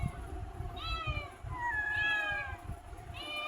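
Cats at home meow repeatedly, several rising and falling cries overlapping, over a steady background rumble with no clear talking.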